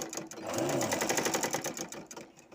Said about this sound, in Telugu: కొంచెం కుట్టి లోపలికి కుట్టు ఎక్కడ పడుతుందా అన్నదే